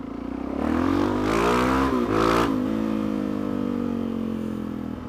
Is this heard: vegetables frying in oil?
no